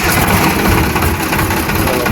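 A tractor engine runs on a farm during a sesame harvest, a loud, close, steady rumble with continuous vibration and no pauses.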